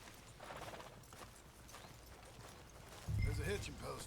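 Horse hooves in Red Dead Redemption 2, faint clip-clop steps under quiet background sound, with speech rising louder near the end.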